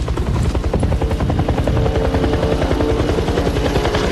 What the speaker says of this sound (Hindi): देखो वो हेलीकॉप्टर है।